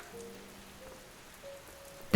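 Soft, steady rain patter spreads across the whole stretch as a cozy indoor ambience, with faint tonal hums beneath and a sudden louder thump right at the end.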